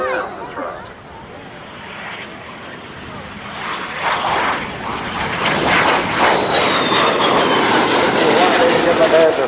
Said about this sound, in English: The Vampire's coming in for their last run.